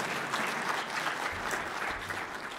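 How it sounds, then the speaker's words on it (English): A conference audience at DrupalCon Denver 2012 claps their hands in a steady, dense round of applause. It holds at an even level throughout, with no talking over it. "That's why you are clapping your hands."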